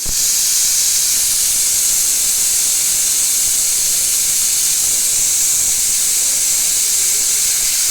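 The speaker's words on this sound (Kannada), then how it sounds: "ಮುಚ್ಚಿದ ನಂತರ ಕುಕ್ಕರ್ 3 ರಿಂದ 4 ಸೀಟಿಯನ್ನು ಹೊಡೆದುಕೊಳ್ಳಬೇಕು." A pressure cooker on the stove vents steam in a loud, continuous hiss that holds steady for the whole stretch, with no talking.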